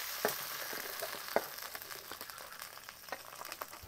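Garlic and green chili crackling in hot sesame oil in a pan, a steady close sizzle dotted with small pops and an occasional stir.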